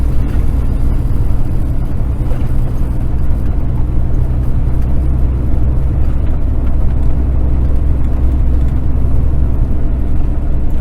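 A vehicle drives a steep grade near Flaming Gorge Reservoir and across the dam, giving a steady, loud low engine and road rumble that holds evenly throughout with no talk.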